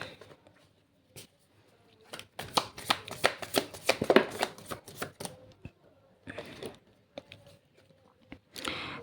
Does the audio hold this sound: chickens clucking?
no